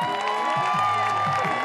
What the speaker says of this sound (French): On peut déjà applaudir Nato là